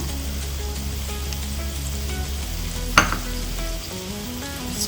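Grated carrot drops into a hot pan with oil and sizzles steadily, with a brief louder hiss and clatter as it lands partway through, then a continuous fry close by.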